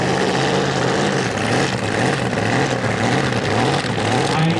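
A pulling tractor with a Chevy engine roars at full throttle at a tractor-pulling event in Holzweiler, a loud, sustained, droning engine howl that stays near and constant throughout.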